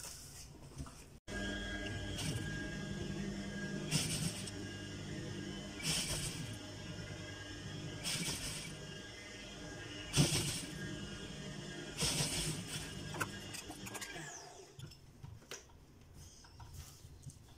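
A sewing machine stitches lace onto fabric in short, fairly quiet runs of whirring, repeating about every two seconds before the sound thins out near the end.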